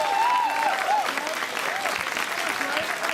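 Crowd applause at a Washington DC Democrats gala as the mayor is recognized, a steady wash of many hands clapping across the clip with a faint voice line drifting above it.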